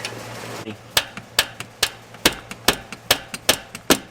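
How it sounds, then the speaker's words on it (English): A hammer striking a tool to pop out an injector hold-down on a Duramax diesel engine: about a dozen sharp, close metallic blows in an uneven rhythm. "insert it inside of the actual injector hold down, and take a hammer"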